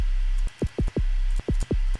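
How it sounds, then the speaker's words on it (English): Deep, punchy synthesized sine-wave kicks with a pitch-envelope slide downward, hitting in a quick irregular pattern over a constant low sine sub-bass drone. "we'll make this oscillator a sine wave just so we can get a sub sound"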